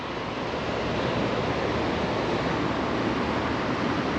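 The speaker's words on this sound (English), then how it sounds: "We're officially on the beach." Steady broadband roar of surf rolling onto the beach at Aberdeen on Scotland's east coast, continuous and fairly loud with wind noise mixed in, no voices.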